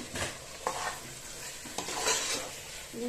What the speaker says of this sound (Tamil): இதையும் சேர்த்து நல்லா கிளறி விட்டுக்கலாம்.